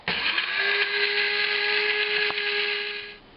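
A blender grinds a serrano chili mixture with a steady, high motor whine that runs loud and unbroken for about three seconds, then winds down and stops.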